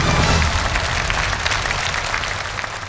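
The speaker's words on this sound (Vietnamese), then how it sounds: "chúng tôi rất muốn tất cả quý vị chúng ta dành những tràng pháo tay thật lớn để chào đón 100 người chơi có mặt tại trường quay" A studio audience at a game show applauds to welcome 100 players, a dense, steady roar of clapping that fades slightly toward the end.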